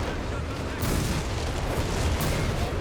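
Artillery shelling from whiz-bang guns pounds away in Company of Heroes 3, a rumbling barrage of booms and impacts with a couple of sharper bursts standing out over the continuous battle noise.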